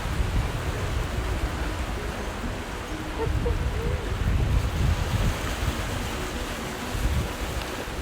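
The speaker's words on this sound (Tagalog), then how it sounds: "Sarap ng tunog ng dagat." Sea waves at a seaside on the Izu coast in the morning, a loud continuous wash of surf with wind noise buffeting the microphone and gentle swells in intensity.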